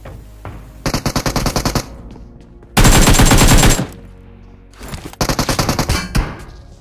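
Gunfire from a solo-versus-squad battle royale video game, loud and close: rapid automatic bursts of about a second each, a longer continuous roar of fire in the middle, then another quick rattling burst with no speech.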